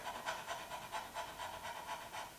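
A person imitates a panting dog with quick, rhythmic breaths repeated steadily and close, used as a fast diaphragm exercise for singing.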